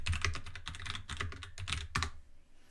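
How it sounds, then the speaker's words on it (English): Several short bursts of fast typing on a computer keyboard as a command is entered into a Python terminal, close and crisp, with brief pauses between runs of keystrokes and a final single tap. "So we'll type that in."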